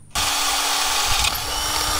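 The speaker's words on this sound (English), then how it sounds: "So we're going to drill right here." A power drill bores into a DIY solar array ground mount, whirring in one loud, steady burst that starts abruptly and runs close-up for about two seconds with no talking.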